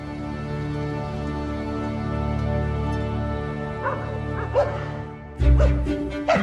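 Stray dogs on the Giza Plateau by the Great Pyramid: a few short yips and barks ring out over steady low background noise, with a louder, closer burst of barking near the end.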